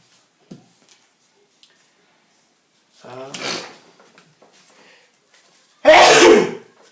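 A single sharp sneeze bursts out loudly near the end of a tabletop card game, preceded by a softer sniff or breath and a few small clicks in otherwise quiet room.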